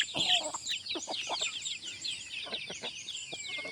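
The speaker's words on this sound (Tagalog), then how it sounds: "ito nga yung manok ni Kuya Jay." Chickens cluck repeatedly in short, busy bursts, with higher calls layered over a constant background of insect-like buzzing.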